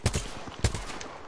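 Gunfire in the shooter game Apex Legends, two distinct shots about half a second apart with a few softer pops after, moderately loud.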